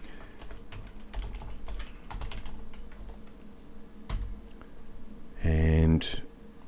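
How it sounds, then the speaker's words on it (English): Rapid keystrokes patter on a computer keyboard as text is entered, a quiet, close clatter of light clicks with a louder burst near the end. "the next thing we need to do is type in some text"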